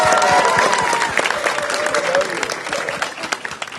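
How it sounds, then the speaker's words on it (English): A crowd gives a big round of applause for the mayor at an outdoor community event, dense clapping that stays loud throughout with some voices mixed in. "Please give her a big round of applause."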